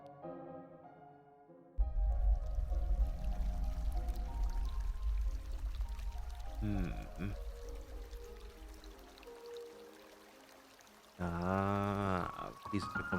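Water pours and streams steadily in a spooky video game, running as a continuous wash with a brief murmured sound from a player over it and a bubbling burst near the end.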